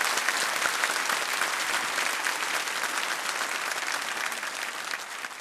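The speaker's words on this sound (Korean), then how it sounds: "큰 박수로 목사님 모시겠습니다" A church congregation claps to welcome the pastor to the pulpit, a loud, sustained wash of applause from many people that holds evenly throughout and fades slightly toward the close.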